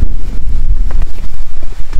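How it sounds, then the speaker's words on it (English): Strong wind at the Ban Pakkad border crossing between Thailand and Cambodia buffets the microphone in rough, gusty low rumbles, continuous and close, with no voices. "So over here, it gets extremely windy"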